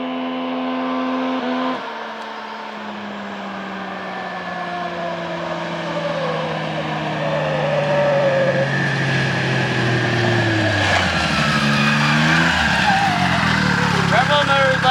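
A mini truck engine revs hard and climbs steadily in pitch, holding high near the rev limiter with a wavering whine, loud and close, with people talking over it.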